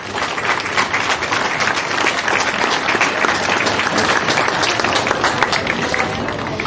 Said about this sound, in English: So a round of applause for all the officials.